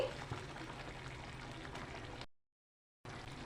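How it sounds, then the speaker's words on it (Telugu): Milk poured into a pan of boiled sago and vermicelli for payasam, a steady close liquid pouring sound that runs for about two seconds, then cuts out briefly and resumes. "పాలండి పాలు హాఫ్ లీటర్ పోసుకోండి"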